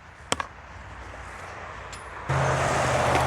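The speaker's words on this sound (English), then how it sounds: "you guys could probably hear all the cars coming by" Traffic on a nearby road beside a disc golf course, a steady broadband rush that swells louder near the end as a car passes close, with a couple of sharp clicks early on.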